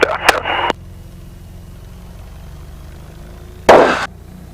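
A Van's RV8 light aircraft's engine hums as a steady low drone from inside the cockpit while the plane lines up on the runway for takeoff, broken by short bursts of radio chatter.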